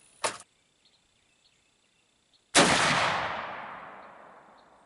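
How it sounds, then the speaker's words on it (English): A .50 caliber muzzleloading rifle fires a solid copper bullet: one loud, sharp blast with a long, rolling decay. It comes after a brief earlier burst and quiet outdoor background. "we are shooting the first of our solid copper projectiles"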